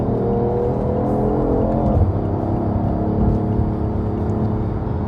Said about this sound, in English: you can hear this car is going really loud